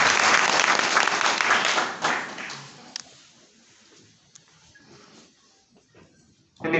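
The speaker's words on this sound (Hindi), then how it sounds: "इस हॉल में जितने भी हमारे आरसीएम साथी हैं एक बार जोरदार ताली बजाएं" A hall audience of RCM members claps loudly in a dense burst of applause that fades after about two seconds, leaving scattered claps and a quiet room before a brief swell at the end.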